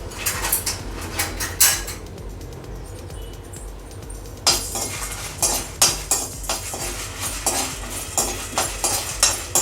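Dry masala roasting in an empty kadai for prawn biriyani: repeated rhythmic scraping and clinking of a spatula against the metal pan, close and fairly loud, with a short quieter stretch midway.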